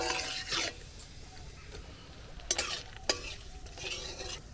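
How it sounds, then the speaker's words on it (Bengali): A tempering of whole cumin, whole garam masala and bay leaf fries in oil, heard as soft sizzling under several scraping stirs of a spoon in the pan, quiet and close. "একটু গোটা জিরে দিয়ে দিলাম, গোটা গরম মশলা দিয়ে দিলাম। এবার ফোড়নটা একটু ভেজে নেব।"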